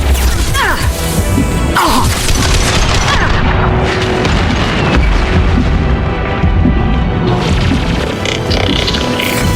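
Heavy gunfire and repeated explosions from a firefight in the sci-fi shooter Mass Effect 2 pound loudly and continuously, with sharp booms, crashing impacts and rattling shots layered over one another, with brief voices beneath.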